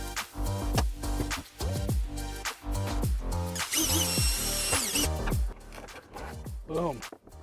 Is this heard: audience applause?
no